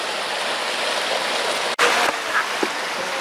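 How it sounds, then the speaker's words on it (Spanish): Small trickle of water falling in a narrow, muddy canyon with many little drops near Colico–Caburgua, Chile, a steady close splashing wash broken by a brief dropout and a few clicks. "agüita cayendo"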